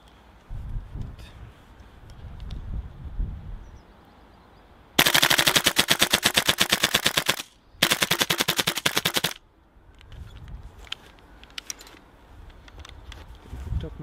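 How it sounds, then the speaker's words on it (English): Loud, rapid full-auto bursts come from an airsoft gas blowback rifle, a Marui M4 MWS or VFC HK416A5, fired with a freezing cold magazine. Two long strings of closely spaced cracks have a brief halt between them, with handling noises before and after. "emptied the magazine on fully auto"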